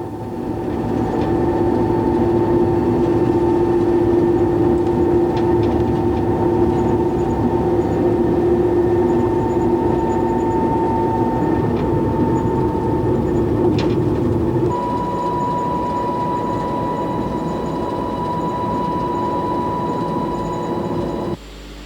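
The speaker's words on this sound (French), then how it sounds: "Le TGV Atlantique a bouclé le parcours long de 411 km en, grosso modo, 2 heures et quart." A TGV Atlantique high-speed train heard from on board near Nantes: a steady, loud rumble of running gear on rails with a persistent tonal whine that shifts pitch partway through, continuous and without voices.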